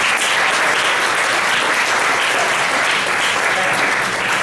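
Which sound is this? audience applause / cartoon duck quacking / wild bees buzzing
audience applause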